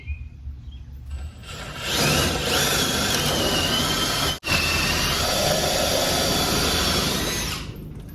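A power drill whirs loudly and continuously for several seconds while drilling for a UTV jack lift, briefly cutting out once mid-run after hitting something hard, before spinning up again.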